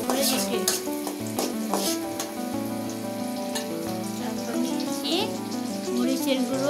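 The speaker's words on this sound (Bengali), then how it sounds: "এখানে দিয়েছি তেল আর দিয়েছি পেঁয়াজ কুচি" Chopped onion rings frying in oil in a pan for a potato and tripe curry, giving a steady, dense sizzle that runs throughout, close and fairly loud, with faint background music underneath.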